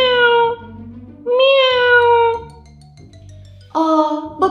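A cartoon cat stuck up on a crane gives three drawn-out, plaintive meows with gaps between them, loud and clear over a soft background of music.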